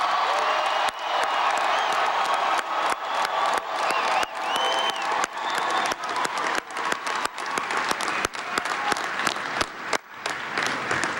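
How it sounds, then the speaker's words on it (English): A large crowd at a presidential inaugural ball, the Commander in Chief's Ball, bursts into dense, sustained applause with scattered cheers and whoops, steady and moderately loud throughout. "Can everybody please give our comrades in arms a huge round of applause?"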